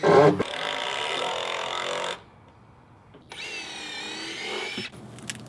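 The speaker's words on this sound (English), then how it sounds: "I'm gonna come up from underneath and sink them in with some timber locks and make sure they're super strong" Power drill driving timber lock screws up into wooden dock deck beams from underneath, a loud steady whir for about two seconds, a pause, then a second, higher-pitched run of drilling.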